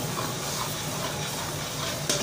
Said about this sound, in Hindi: तो अभी जो हमारे जो मसाले हैं बिल्कुल घी में फ्राई हो रहे हैं